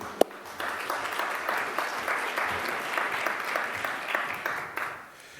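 Sustained audience applause at a financial inclusion summit, a dense steady patter of many hands clapping at moderate distance after a brief sharp knock at the start, fading out near the end.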